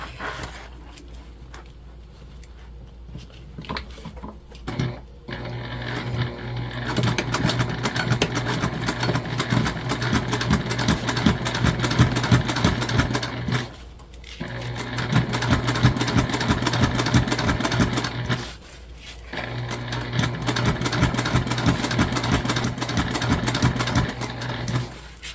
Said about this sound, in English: we're gonna top stitch on our top facing